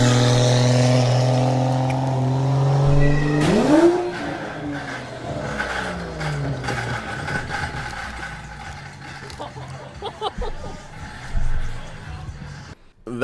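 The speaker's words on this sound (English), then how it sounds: "That's what it sounds like when someone doesn't know how to do a burnout in an automatic car" An automatic car with traction control on revs up for a burnout: a held idle-like drone climbs sharply into a strained rev, then stutters and bogs in uneven surges, with faint voices in the background.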